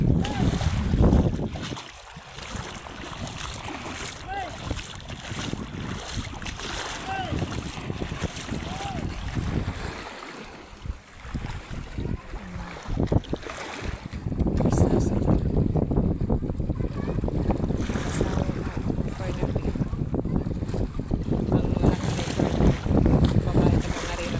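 Rough, churning sea with heavy wind buffeting the microphone and a boat engine droning, steady and loud, with voices shouting briefly over it.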